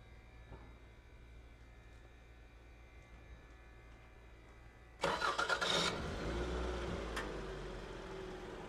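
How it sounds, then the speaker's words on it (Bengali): A 2006 Toyota Camry engine cranks and catches about halfway through, then settles into a steady idle after a quiet stretch of background hum. "ভাই একটু গাড়িটা স্টার্ট দিবেন ভাইয়া।"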